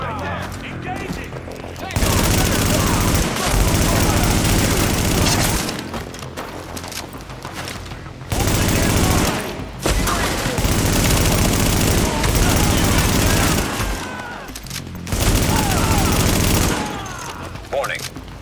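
Bursts of automatic gunfire and shots ring out in Tom Clancy's The Division, loud volleys alternating with quieter gaps, with a voice speaking in between.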